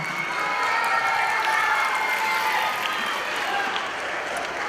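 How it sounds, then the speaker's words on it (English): A festival audience at a children's storytelling matinee gives sustained applause with some cheering, a broad, even wash of clapping from a sizable crowd. "A big round of applause for Linda Goram."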